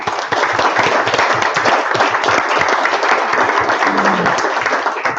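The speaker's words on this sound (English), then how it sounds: "One more round of applause" An audience at a talk on residential energy-efficiency scorecards gives a round of applause, loud, brisk, continuous clapping from many hands lasting about five seconds.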